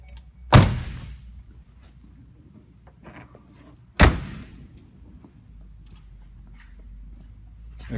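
Two solid door slams from a 2011 Ford Mustang, spaced about three and a half seconds apart, each a close, sharp thud followed by a short ring, with a quiet idle-like hum and faint handling noises between.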